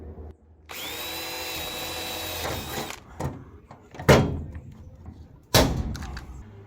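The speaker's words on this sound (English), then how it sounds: "I had to drill a hole for another." A power drill whines steadily for about two seconds drilling a rivet hole while installing an air conditioner on a 1949 camper, then stops, followed by several sharp clanks and knocks of metal being handled nearby.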